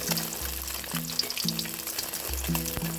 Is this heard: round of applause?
no